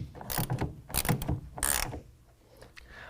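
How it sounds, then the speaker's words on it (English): Short clicking bursts from a 9/16 ratchet snugging a clamp bolt on a Gator SR2 roll-up tonneau cover for a 2019 Chevy GMC 1500 pickup, three or four quick ratcheting strokes close by, then a quieter pause. "take a 9/16 wrencher ratchet and get it snugged up"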